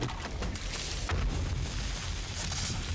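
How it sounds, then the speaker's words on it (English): Landmines keep going off in the survival video game 7 Days to Die, a run of deep booms and rumbling blasts that overlap and recur through the stretch at a fairly distant, muffled level. "I hear a lot of landmines going,"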